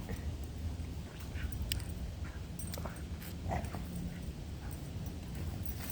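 A dog vocalizes in a low, breathy, growl-like way with brief whimpering yips, close by and fairly steady over a background of household noise, with no one talking.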